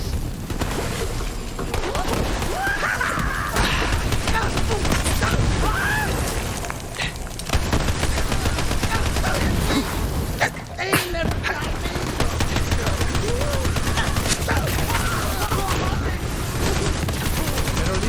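Rapid, dense gunfire from the video game Borderlands 3, continuous bursts and booms filling the whole stretch with a voice talking over the shooting.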